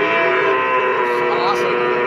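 A Peranakan Ongole cow moos loudly and steadily at a cattle market, a drawn-out low call close by with faint background noise.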